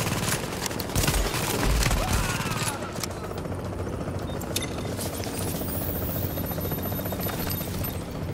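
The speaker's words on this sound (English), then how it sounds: "Chopper is inbound." A helicopter arrives in a shooter video game's extraction zone, a steady loud rotor drone filling the scene, with bursts of gunfire crackling over it early on.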